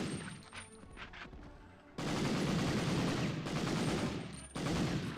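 Rapid SMG gunfire from the World War II shooter Medal of Honor, loud dense bursts of automatic fire, a short burst early then sustained firing with a brief pause before resuming.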